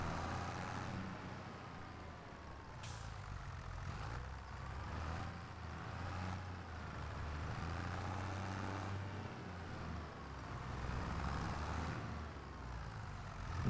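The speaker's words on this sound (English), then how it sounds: "Little old tractor." A small tractor engine in a video game runs at a steady low rumble, close and continuous, with slight shifts in pitch and no speech over it.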